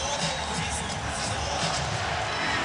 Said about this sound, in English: The crowd finally back into it.